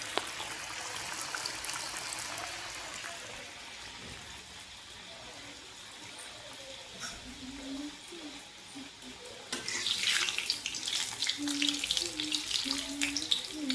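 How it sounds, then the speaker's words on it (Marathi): Steamed veg momos frying in hot oil, a steady moderate sizzle throughout that grows louder and busier toward the end, with a voice speaking over it. "मी हे शिजवून घेतलेले काही मोमोज मी इथे तळायला टाकलेले आहेत"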